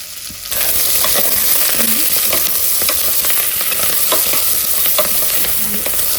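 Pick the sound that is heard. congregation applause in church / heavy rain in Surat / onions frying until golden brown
onions frying until golden brown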